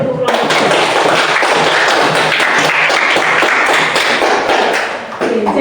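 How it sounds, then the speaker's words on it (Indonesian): A classroom of students claps for a group of classmates, a dense, steady burst of many hands at close range that continues for several seconds before thinning out at the end. "Tepuk tangan dulu untuk kelompok"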